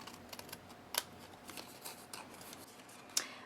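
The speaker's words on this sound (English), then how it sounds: "just use my scissors to cut out my tag" Scissors snip through a paper tag in a few quiet, sharp cuts spaced irregularly, with faint paper rustling in between, close but soft.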